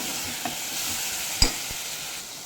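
Brinjal frying in a pan gives a steady soft sizzle, with one sharp spatula scrape or knock midway and a couple of lighter taps.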